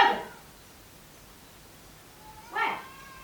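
Two brief meows from cats indoors at home, one at the start and another a couple of seconds later, fairly close in an otherwise quiet room.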